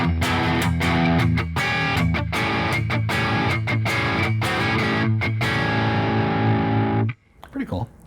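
Electric guitar from a Solo Tele kit build plays with both pickups together, strummed chords ringing out in a driven, distorted tone before cutting off abruptly near the end, followed by brief faint noise.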